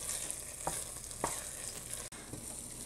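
Carrot halwa stirred in a pan on the stove over low heat, a steady soft sizzle with two distinct spoon scrapes and a brief dropout, no talking.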